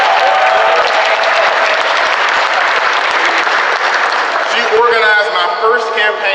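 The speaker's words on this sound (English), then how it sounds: "Oh, we can give her a round of applause." Crowd applause at an election night gathering in Collierville, a sustained, loud burst of many people clapping that thins near the end as voices and cheers rise through it.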